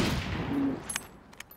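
Gunshot fired at a bear while hunting in the survival video game Pilgrim Survival: a single loud, sharp blast that rolls off into a fading rumble over about a second.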